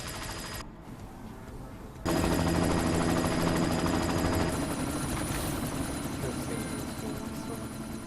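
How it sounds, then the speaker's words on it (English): In the video game Deus Ex: Mankind Divided, a helicopter roars loud and steady at close range, and the dense rotor noise swells abruptly partway through alongside what sounds like gunfire. "You've got to stop that chopper."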